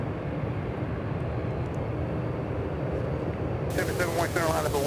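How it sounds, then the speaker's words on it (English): Spirit Airlines Airbus A320 on final approach to land at Charlotte Douglas Airport, a steady low jet rumble throughout, joined near the end by a brighter wavering whine as it draws closer. "Spirit Airlines Flight 745 getting ready to land here"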